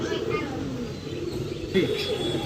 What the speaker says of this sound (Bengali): লাল পাত্তি একটা নর কবুতর দর্শক দেখেন